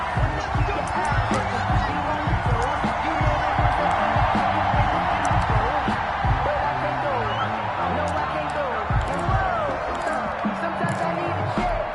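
A stadium crowd roars and cheers continuously ahead of a Seattle Seahawks versus Washington Football Team NFL game, a dense, loud wash of voices and whoops with broadcast commentary running beneath.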